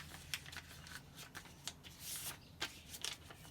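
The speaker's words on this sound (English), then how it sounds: "take that that and fold it in so that all this paper is on the inside" A sheet of paper is folded into a paper airplane, giving a series of quiet, irregular crinkles, rustles and sharp creasing snaps close up, with no talking.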